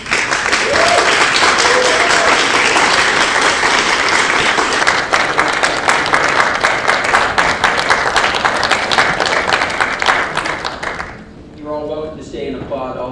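A county board meeting audience breaks into long, loud applause after a unanimous vote, dense rapid clapping that holds steady before fading out, followed by a few seconds of talking.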